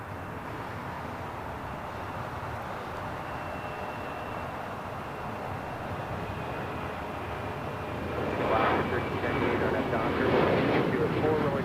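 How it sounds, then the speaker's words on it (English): A Delta Airlines Boeing 737-900ER taking off from LAX bound for Miami, a broad distant roar of jet engines that builds toward the end, with radio chatter and a voice talking over it. "This is Delta Airlines 2513 taking off to Miami, Florida"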